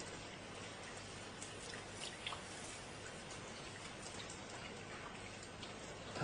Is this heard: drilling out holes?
no